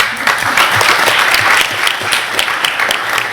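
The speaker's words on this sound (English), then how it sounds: "please stand up and take a little bow and get a little applause for you" An audience at a public board meeting applauding an introduced guest, a dense burst of steady clapping from many people in a room, close and loud, without speech over it.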